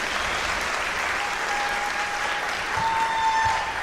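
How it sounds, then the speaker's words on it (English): A school winter concert audience applauds a middle school jazz band, made up mostly of seventh graders, in a dense, even wash of clapping that holds at a steady level for several seconds. "how about another round of applause for them for being able to do that?"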